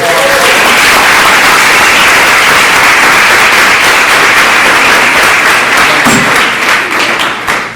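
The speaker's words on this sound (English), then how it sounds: "Let's give these kiddos a round of applause." Loud, close applause for children at a school board meeting, a dense, sustained roar of many clapping hands lasting several seconds before tapering off at the end.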